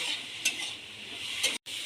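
Spices and turmeric powder sizzle in a little hot oil while a spoon stirs and scrapes the pan, with two brief louder scrapes.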